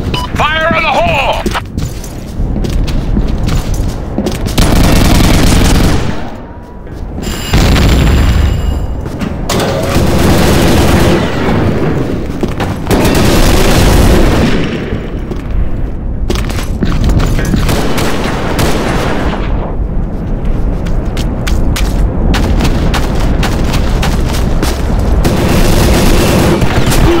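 In the shooter game Combat Arms, dense rapid gunfire and booming grenade explosions pour out almost nonstop and very loud, with brief game voice callouts between bursts.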